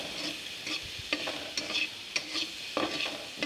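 Chopped onion and chili with a little salt and turmeric fry in oil with a soft, steady sizzle, broken by a series of gentle spatula stirs and scrapes at an uneven rhythm, quiet and close.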